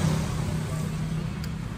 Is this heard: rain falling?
no